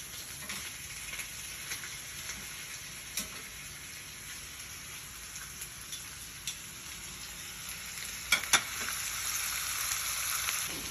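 Johnsonville sausage browning in a pan on high heat, giving a steady crackling sizzle with small pops and a few clinks of a utensil, moderately quiet and without voices.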